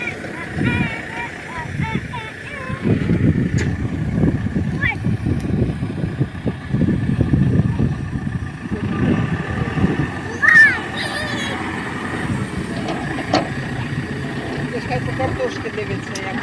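A Lovol 1054 tractor driving a rotary tiller on its first run gives a steady, fairly loud engine drone with a low rumble throughout, while people talk over it nearby.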